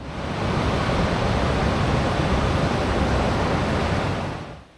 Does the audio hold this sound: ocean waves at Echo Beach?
yes